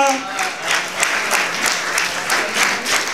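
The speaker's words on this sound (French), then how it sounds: "On s'applaudit." Audience at a slam poetry final clapping in a dense, steady burst of applause that swells slightly in waves, with a brief voice at the very start.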